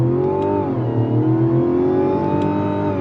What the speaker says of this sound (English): Love the sound of that engine.